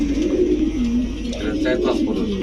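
Pigeon cooing from a pen of racer, Sirazi, Budapest, Danish and Beauty breed pigeons, a low rolling coo that runs steadily throughout, with bird chatter and a voice in the background.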